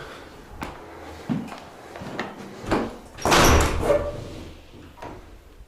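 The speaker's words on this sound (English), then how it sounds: "I'll try the door. Oh, it is open." A church door is tried and opened, with scattered knocks and clunks followed by a louder scrape or thud as it swings, heard up close with no talking.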